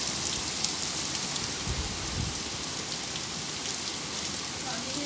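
Heavy rain and hail in a fierce UK storm, a steady loud roar of drops and hailstones pounding surfaces throughout, with a few faint thuds beneath.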